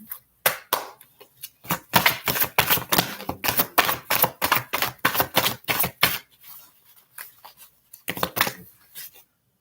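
Tarot cards are shuffled in quick crackling riffles and taps, close by, with brief pauses between bursts and no voices.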